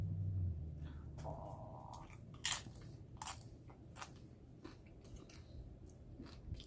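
Crunchy nachos from a food trailer are chewed close up, with several sharp crisp bites and crunches over a low background murmur and no talking.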